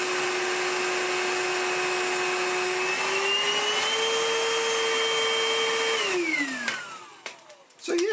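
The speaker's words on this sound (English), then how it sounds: "our freebie cordless vacuum cleaner is done" A Vytronix NC22 cordless vacuum cleaner, freshly restored, runs with a steady motor whine that rises slightly in pitch, then winds down as it is switched off, with a few handling clicks near the end.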